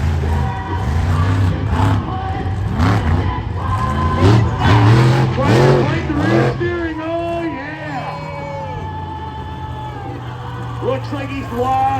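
A monster truck revs and rides up on two wheels at a Monster X Tour show in Granite City, Illinois, its engine surging and swooping in repeated loud bursts before settling into a steadier drone, with an announcer talking throughout.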